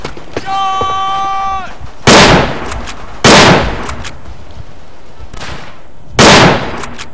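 Gunfire in the World War I shooter Verdun, with three loud, sharp booming shots spaced a second or more apart, each with a short decaying tail, after a brief whistling tone at the start.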